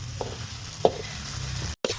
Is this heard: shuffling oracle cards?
no